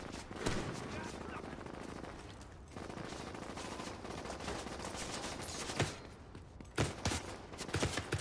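Bursts of gunfire from The Division 2 video game, rapid automatic shots rattling continuously in a dense, loud battle mix with scattered louder reports.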